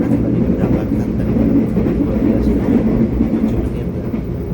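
A passenger train runs steadily after leaving Purwokerto station, with a continuous loud low rumble and rolling wheel noise that keep an even level throughout.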